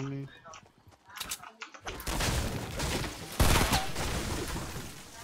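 Rapid gunfire in a battle royale game opens with sharp isolated shots, then becomes a dense, sustained barrage with a loud blast midway, close and loud, with people talking alongside.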